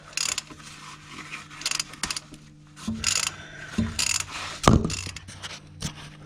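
A 3/8-inch square-drive ratchet works bolts loose on a Ford Mustang Bullitt with a 4.6L 3V engine, giving repeated close bursts of quick clicking pawl ratchet strokes with brief pauses and metallic knocks between them.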